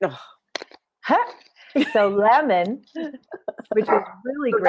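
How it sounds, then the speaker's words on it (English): A pet dog barks and yips a few times indoors, short sharp calls mixed with whimpers, while someone talks over and between them. "That's my dog being a dog."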